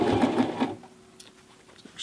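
A Toyota FSG325 sewing machine stitches a thick jeans hem in a fast, close, rattling burst that stops abruptly, leaving faint clicks and small handling noises afterward.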